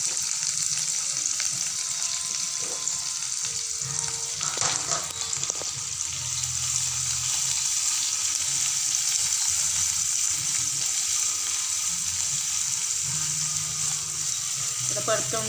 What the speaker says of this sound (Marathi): परतवून घेऊया.